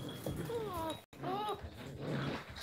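A puppy whimpers and yips in short high, wavering cries, close and fairly loud, with a brief silent break midway; a voice may murmur underneath.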